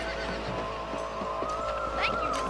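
A horse whinnies in the Red Dead Redemption video game, a rising high neigh near the end over steady game ambience, with faint hoof clip-clop earlier.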